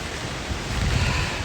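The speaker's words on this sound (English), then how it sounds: "It's just windy, rainy, miserable crap." Hurricane wind roars and rain batters in a cold, miserable storm, a dense, loud, close rush that swells slightly midway, with no voices heard.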